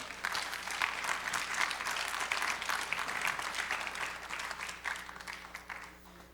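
Steady applause from a church congregation fills the space for several seconds, a dense wash of clapping hands at even loudness with a faint hum beneath.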